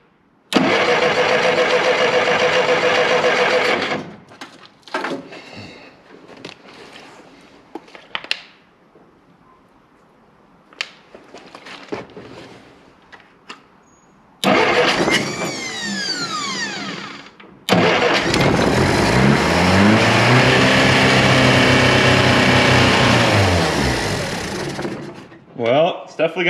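An old Jeep Willys engine with a vacuum leak cranks and runs briefly, falls quiet amid some handling noises, then cranks again and settles into a loud, rough, uneven idle.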